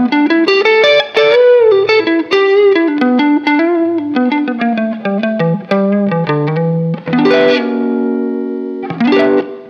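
Electric guitar through heavy distortion, played with a very thin Ernie Ball pick: a loud run of quickly picked notes followed by two sustained ringing chords, with no talking.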